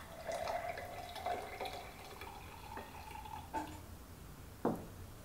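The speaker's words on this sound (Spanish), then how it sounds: "Y le agregamos agua tibia" Warm water is poured into a glass holding squeezed lemon juice, a faint trickle and drip with ringing tones rising as the glass fills, a few separate splashes, and one sharper clink near the end, with no one speaking.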